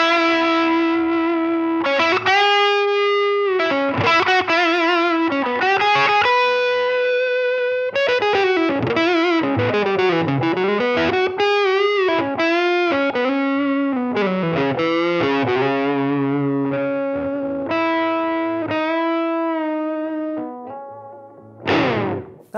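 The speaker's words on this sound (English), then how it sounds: "the bridge pickup turned down sounds awesome." Gibson Les Paul Classic Gold Top electric guitar on its bridge pickup with the tone rolled down, giving a warm, creamy overdriven tone as a lead line of sustained notes and bends plays loud and close with no talking.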